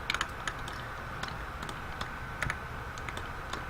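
Typing on a computer keyboard, a sparse run of light key clicks in small clusters with pauses between, close and fairly quiet over a steady low room hum.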